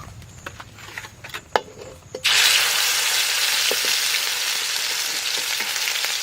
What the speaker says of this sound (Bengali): বাইটে নেওয়া মশলাটা তেলের উপরে দিয়ে দেবো